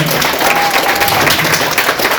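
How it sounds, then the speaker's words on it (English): Audience at a school breakfast event applauding, a thick, continuous burst of clapping from a crowd that holds steady and fairly loud throughout, with a faint tone briefly audible within. "So I really want to applaud Donna Wright-Bauer."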